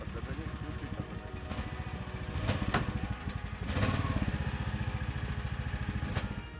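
Engine of a new low-cost snowmobile idling and revving close by with a rapid, putt-putt lawnmower-like chug, rising in two brief surges amid clatter, with a voice talking over it.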